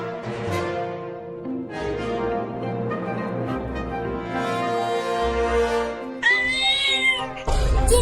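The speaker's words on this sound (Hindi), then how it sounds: "वो छोटी बिल्ली अभी अभी बोली" A cartoon kitten gives a string of drawn-out, whiny meows, close and fairly loud, with a brief burst of other sound near the end.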